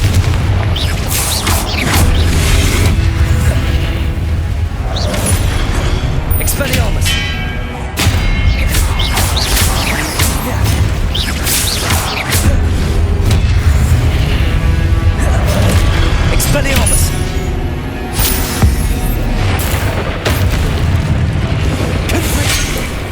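Confringo explosion spells in the Hogwarts Legacy video game: dense, continuous booms and thudding blasts over a loud, busy rumble of combat with no pauses.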